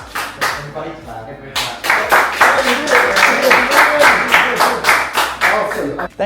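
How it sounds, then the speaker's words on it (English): A small group claps in bursts outdoors after a handmade wooden boat is flipped, the clapping loud and close, with cheering voices mixed in and a brief pause before it picks up again. "Everybody clap."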